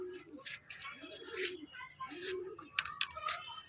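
Pigeons cooing close by in quick, repeated soft throaty calls, several overlapping coos in a rhythmic pattern, fairly quiet overall.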